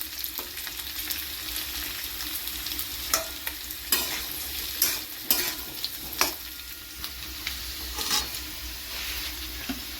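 Taro (gathi kochu) cooks in a frying pan, a continuous close sizzle broken by repeated sharp scraping strokes as it is stirred every second or so.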